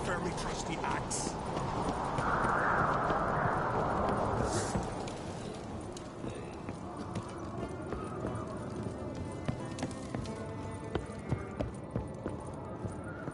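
Horse hooves clip-clop steadily under an ambient Witcher game soundscape, with a faint whisper-like voice and light background noise throughout.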